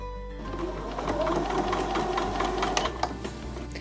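A sewing machine stitches down a drawn line through pinned quilt fabric, a brisk rapid mechanical whir with rhythmic ticking needle strikes, close and steady throughout.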